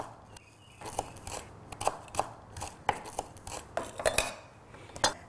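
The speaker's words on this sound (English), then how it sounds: "we're just going to slice it" A knife slicing fresh chilies on a chopping board, a quick run of sharp, close taps and clicks in an uneven rhythm, about a dozen cuts with no talking.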